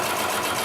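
A Consew 733R-5 industrial sewing machine stitches through a thick pile of leather, giving a steady, continuous mechanical whir with no pauses, close and moderately loud.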